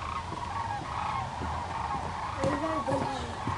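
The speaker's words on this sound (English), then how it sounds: "Look at all the birds." A flock of geese honks outdoors on a fall day among other birds, with several short nasal calls clustered near the end over a steady, noisy background.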